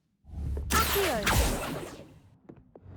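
In Hogwarts Legacy, an Accio summoning spell sends out a single loud swoosh that rises and then trails away. A few faint taps follow as the sound dies down.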